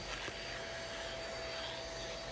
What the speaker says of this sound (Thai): เครื่องดูดฝุ่นของเราเนี่ยแปลงใส่หัว แบบเป็นหัวแบนแบบนี้ครับแล้วก็ไล่ดูดได้